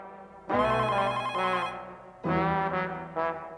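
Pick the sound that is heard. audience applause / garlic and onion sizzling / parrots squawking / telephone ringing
telephone ringing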